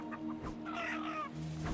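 Chickens clucking in the Breakwaters video game, a few short clucks over a steady low game ambience with a faint hum, fairly close and not masked by talk.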